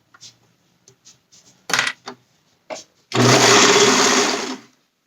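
A sewing machine stitches through five layers of a romper back, a steady, loud mechanical whir lasting over a second, preceded by scattered clicks and handling knocks.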